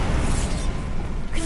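A Bombardo spell is cast in Hogwarts Legacy as one short, loud blast, a dense rushing burst that fades over about a second and a half.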